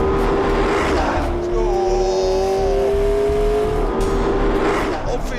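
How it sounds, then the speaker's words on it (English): McLaren hybrid supercar with a V8 engine and electric motor producing 903 brake horsepower, heard from the cabin as a loud engine drone with pitch rising and falling through gear changes. "The electric motor and the big V8 generator are working together so that I have at my disposal 903 brake horsepower."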